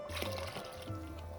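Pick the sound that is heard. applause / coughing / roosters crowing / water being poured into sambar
water being poured into sambar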